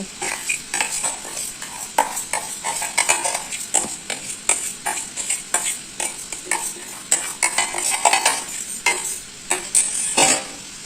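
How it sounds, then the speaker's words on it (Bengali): Fried Gobindobhog rice and moong dal being stirred into sizzling spices in a pan for veg khichdi, with rapid, repeated scraping and clanking of a metal spoon over a constant frying hiss, close up. "এরপর ভেজে রাখা গোবিন্দভোগ চাল ও মুগ ডাল মশলার মধ্যে দিয়ে দেব"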